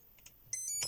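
Short electronic startup beeps from a Hobbywing Skywalker 40 amp ESC on a 2S lipo: faint tones early, then a louder sustained high-pitched tone with harmonics, close and alone.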